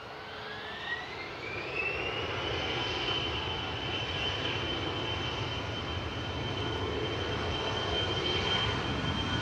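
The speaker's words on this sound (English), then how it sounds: "SAS Flight 540 back to Copenhagen, operated by CityJet, CRJ 900 there" CityJet-operated SAS CRJ 900 jet bound for Copenhagen at Manchester Airport, a steady close engine roar with a high whine that rises, then holds level.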